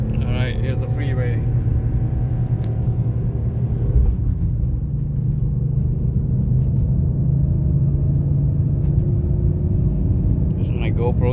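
BMW M3 cruising on the freeway, a steady low road rumble and tire drone heard from inside the car, constant and fairly loud throughout.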